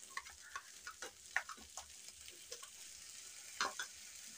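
A spiced masala mixture stirred in a hot pan, with a soft sizzle under repeated scraping and tapping strokes of the spoon, faint and close.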